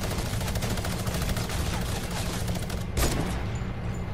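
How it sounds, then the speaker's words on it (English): Sustained rapid minigun fire in an online shooter game, a dense unbroken stream of shots at steady loudness with a brief louder burst near the end. "Okay, they're minigunning."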